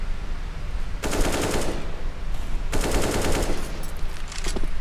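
Two sustained bursts of AK rifle spray fire in Counter-Strike during a professional match, rapid rattling shots about a second and a half each, loud and close, with a quieter pause between them.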